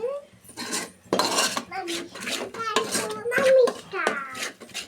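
Fish curry masala with onion paste and oil being stirred in a pan: clinking, scraping utensil strokes against the pan come in irregular bursts, close and moderately loud, with a voice talking over them throughout.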